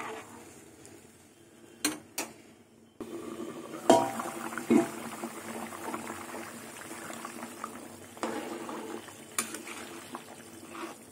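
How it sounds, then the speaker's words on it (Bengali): Bhetki fish curry gravy with potatoes simmering in a covered pot, a quiet bubbling broken by several clinks of a lid and utensils. "ঝোল ফুটে গেছে, আলু সেদ্ধ হয়ে গেছে।"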